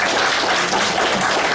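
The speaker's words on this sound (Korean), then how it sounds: "우리 박수로 환영하겠습니다" A church congregation claps in welcome for a visiting guest during a Sunday worship service, producing a dense, steady patter of many hands that fills the room without pause.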